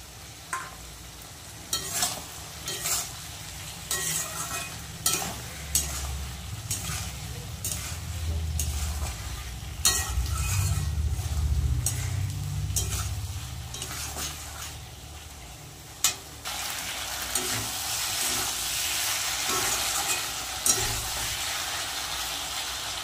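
A paste of ground poppy seed and green chili frying and being stirred in a pan, a steady sizzle with repeated scraping strokes, close and fairly quiet, with no talk.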